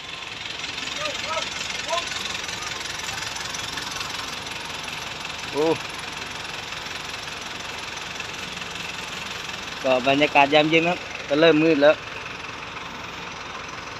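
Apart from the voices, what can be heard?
farm tractor engine idling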